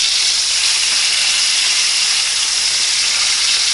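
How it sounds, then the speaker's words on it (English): Bacon frying in a pan gives off a loud, steady hiss and crackle that goes on without a break and without any voices. "Sizzle, sizzle, sizzle. There's the bacon."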